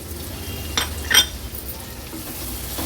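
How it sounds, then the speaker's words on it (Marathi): Chopped onion sautés in oil with a low, steady sizzle, interrupted by a couple of quick clinks and scrapes of a spoon against the pan. "कांदा पण तेलामध्ये छान परतून घेते"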